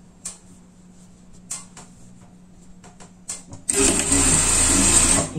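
A sewing machine topstitches a seam on a pet garment set, starting as a loud, steady whir after a few faint ticks and short bursts, running close and continuous to the end.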